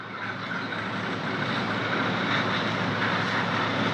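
A Vanquish H10 Optic 1/10 RC trail buggy, ready-to-run, spinning on a dyno. Its electric motor gives a steady, loud, broadband whir that holds an even pitch and volume for the whole stretch, with no voices.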